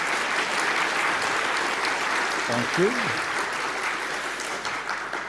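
Audience applause at a mathematics congress lecture, a steady wash of many hands clapping throughout, with a brief spoken remark over it partway through.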